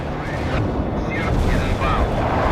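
Artillery fire in the World in Conflict game rumbles as a steady, heavy low roar of distant booms, with a voice speaking over it.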